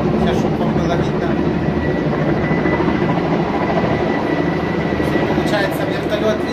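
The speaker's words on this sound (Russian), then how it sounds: "вертолеты прямо здесь на море набирают воду" A helicopter drones and thumps steadily in the distance over the sea, scooping up water during a forest fire near Marmaris, Turkey, a continuous low rotor rumble heard from afar.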